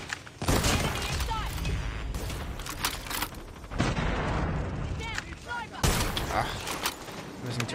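Gunfire from a video game sniper battle rings out as dense, loud bursts of shots and booms, with sharp onsets and a short pause between volleys, heard close.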